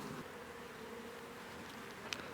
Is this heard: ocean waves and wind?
no